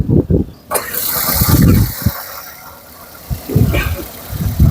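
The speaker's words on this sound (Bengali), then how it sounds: "ইঞ্জিনের সাউন্ড কতটুকু সুন্দর রয়েছে আর ইঞ্জিনে কোনো ব্যাড নয়েজ নেই" A used Toyota car's engine starts and runs at idle close by, a steady low rumble with a hiss above it, broken by bursts of nearby voices.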